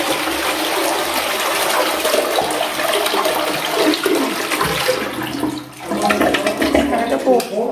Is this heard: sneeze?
no